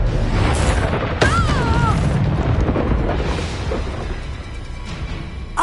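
A Confringo fire spell blasts in the video game Hogwarts Legacy, a booming burst under continuous rumbling combat noise with a voice calling out over it.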